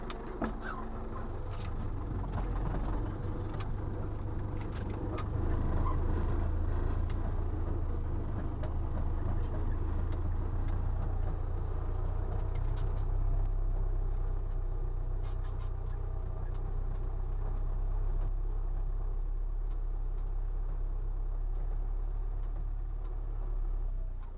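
An MTZ-82 tractor idles with a deep, steady diesel rumble as it comes to a full stop with the brake and shifts into reverse, faint clicks and clunks of the controls sounding over the engine.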